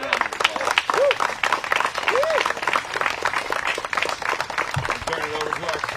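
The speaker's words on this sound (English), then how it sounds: "Give them a round of applause." Spectators at a women's disc golf championship final round clap for the lead card in an outdoor crowd, steady moderate applause with some talk and a few birdlike chirps over it.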